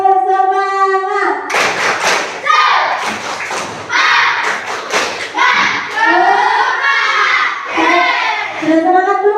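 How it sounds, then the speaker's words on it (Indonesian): Classroom children stand and perform a rhythmic spirit clap, with thumping and hand claps in patterned bursts while a teacher's voice leads and children's voices chant along throughout. "Kita tepuk semangat dulu."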